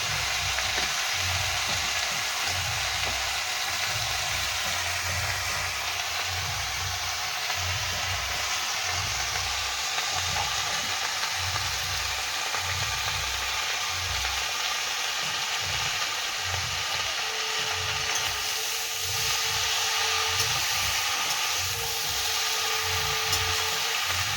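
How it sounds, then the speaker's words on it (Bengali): Raw prawns frying in a pan with salt and turmeric give off a steady, close sizzle that runs unbroken from start to finish, with no voices over it. "লবণ আর হলুদ দিয়ে ভেজে দেবো।"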